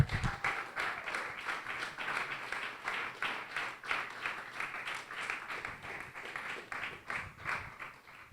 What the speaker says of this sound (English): Let me get a round of applause to Mr. Mendez